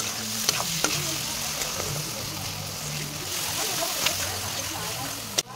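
Ground turmeric, chili, cumin, coriander and meat masala powders with salt and ginger-garlic paste fry in a pan, a steady sizzle broken by a few sharp scraping stirs, with a voice speaking faintly underneath.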